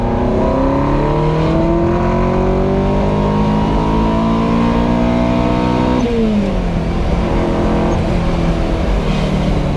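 A Ferrari engine revs hard under acceleration, its pitch climbing steadily before dropping sharply at the shift into second gear and then rising again, loud and close throughout.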